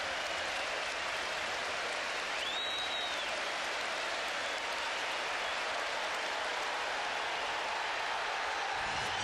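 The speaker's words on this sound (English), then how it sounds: "the applause for Dennis Bergkamp has got even more intense" Football stadium crowd at Arsenal's home match against Wigan Athletic in 2006 applauding a player, a continuous, dense wash of clapping and crowd noise heard from a distance, steady and unbroken throughout.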